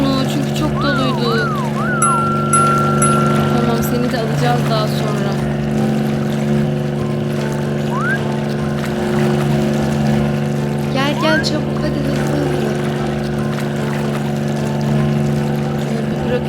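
Motorboat engine in a firefighter rescue video game, a steady droning hum running throughout alongside looping game tones and brief siren-like chirps, with no voices.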